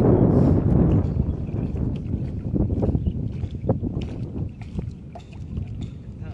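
A small boat arrives at the Juva island jetty, a close, low rumbling engine and water wash with wind buffeting the microphone and some knocking, fading slightly as it slows.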